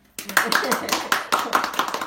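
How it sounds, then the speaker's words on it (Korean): A small studio audience gives brief applause, a short burst of scattered claps with a quick rhythm that fades after about two seconds, heard at close range. "박수 한번 주세요"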